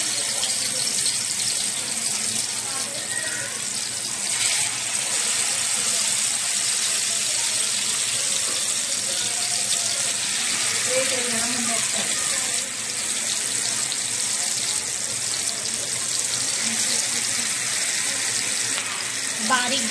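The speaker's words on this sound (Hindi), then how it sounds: "देखिए ऑयल भी गर्म हो चुका है, अब हम फ्राई मच्छी उसमें डालेंगे।" Fish fried in hot oil on a low gas flame, giving a steady, broad sizzle and hiss that continues throughout with faint kitchen clatter and occasional voices underneath.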